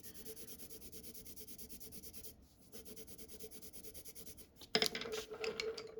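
Colored pencils from Polychromos and Prismacolor sets are swatched on paper, giving a steady, close, scratchy rubbing that pauses briefly midway and turns into a louder, brisker burst of strokes near the end.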